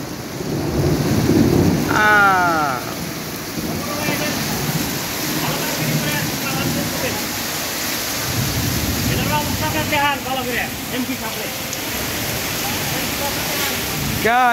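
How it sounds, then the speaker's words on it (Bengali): Steady rain pours throughout with a deep rumble of thunder early on, while voices and chirping sounds rise over the downpour. "আকাশে মেঘ ডাকছে।"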